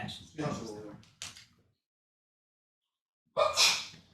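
A sudden sneeze bursts out between bits of nearby conversation, followed by a short quiet pause before talking resumes.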